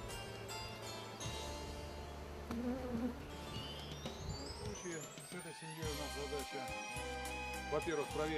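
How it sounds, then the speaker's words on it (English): Honeybees fly around a hive in an apiary, a steady buzzing hum close by, under a man's speech and some clinking noises. "But the bees flying not bad."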